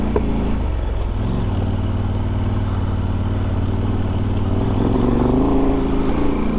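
A motorcycle climbs a Colorado backcountry alpine pass, its engine droning steadily and loudly near the rider, with rough clattering and wind buffeting throughout and a slight rise in revs toward the end.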